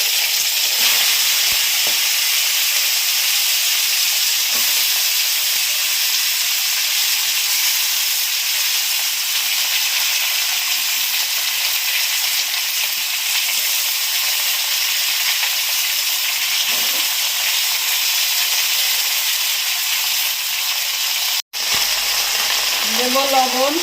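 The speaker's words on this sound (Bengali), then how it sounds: "এই তেলে দেব আদা বাটা, এবার আমি পুঁই শাকগুলো দিয়ে দেবো।" Malabar spinach (pui shak) fries in oil with ginger paste, giving a loud, continuous close-up sizzle and hiss that holds steady for a long stretch, with brief soft stirring knocks.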